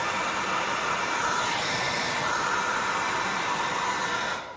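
A steady, loud blowing hiss of a hair dryer setting patina on leather shoes runs continuously, with no voices, cutting off abruptly at the very end.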